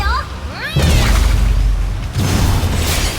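A charged weapon is released in Honkai Impact 3rd as Herrscher of Human: Ego, giving two heavy, loud booming blasts with a rushing burst after each, about a second and a half apart.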